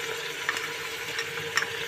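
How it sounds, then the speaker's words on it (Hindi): Steady soft sizzle of mutton head and trotters being sautéed with ginger in a pan, with faint stirring scrapes now and then. "हम इसमें सिरी पाए को डाल देंगे इसमें, और अदरक डालकर इसको थोड़ा सा भून लेंगे"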